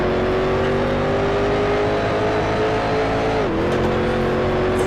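A Grand Prix Legends race car engine drones loud and steady, its pitch holding level before a brief dip and recovery near the end as the car works through the gears, with no talking.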